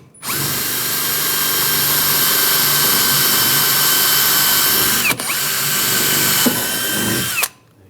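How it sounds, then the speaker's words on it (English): A power drill with a 1/4-inch bit bores through the mud flap mounting hole on a 2011-2018 Ram 1500, whining steadily at high speed for several seconds with one brief pause, then stopping. "I'm using a 1/4-inch drill bit. Just drill through where the hole is."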